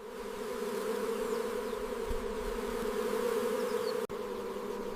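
Bees buzz around their colony in a steady, dense drone that stays loud and unbroken throughout, with no voices.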